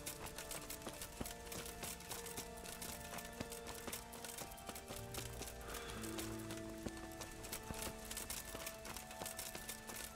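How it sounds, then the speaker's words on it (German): A horse gallops in the medieval video game Kingdom Come Deliverance, its steady hoofbeats running through the whole stretch over a dense bed of game ambience and music. "Ich glaube mal, ich bin schneller, wenn ich mit dem Pferd renne, ne?"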